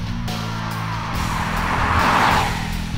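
A 2015 Audi Q3 with the 2.0 TDI diesel engine and six-speed manual gearbox being driven, giving a steady low engine drone and road rumble that swells slightly near the end.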